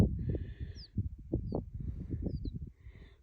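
Small birds chirp in short, high, scattered calls, faint against a louder low rumbling background throughout.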